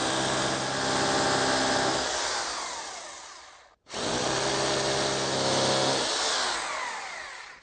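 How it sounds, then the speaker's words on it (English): A hammer drill bores holes into a wall for hanging a bicycle: two long, loud, grinding bursts of steady drilling, each several seconds, separated by a brief pause, with no talking. "plug in your hammer drill"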